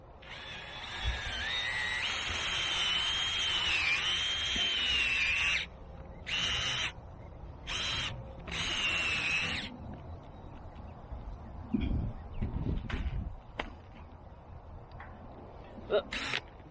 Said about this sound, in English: I'm going to drill a hole right down in here.